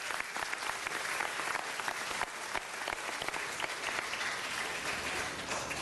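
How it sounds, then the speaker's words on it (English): At a city council meeting, an audience breaks into dense, sustained applause, many hands clapping together evenly for several seconds with no voices over it. "let's give Gladys a big round of applause."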